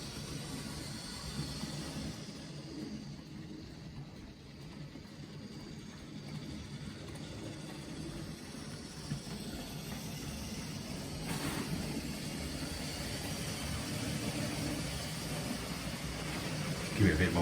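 Hornby and Oxford Rail Dean Goods model locomotives run with a steady whirring rumble that builds slightly toward the end, continuous throughout without speech.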